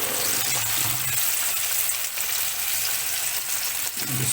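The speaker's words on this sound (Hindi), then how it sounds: "अब इसके अंदर हम ऐड करेंगे फिश को" Fish fries in hot ghee over a medium flame with a dense, continuous sizzle that stays steady and close throughout, no talking.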